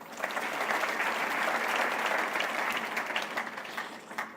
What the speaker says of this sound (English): I want you to clap for Aisha Jomo.